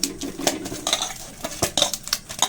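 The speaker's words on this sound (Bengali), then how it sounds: "দুই একবার মেখে নেব আটাটাকে" Wheat dough (atta) being kneaded by hand in a bowl, with close, irregular slaps, presses and clinks of the bowl repeating steadily for a couple of seconds, no talking.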